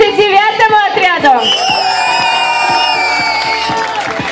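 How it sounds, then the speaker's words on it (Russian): A children's summer camp crowd at the Volna camp in 2018 shouts, whoops and cheers loudly for the 9th squad, with voices calling out over a steady roar of many people. "Аплодисменты 9-му отряду!"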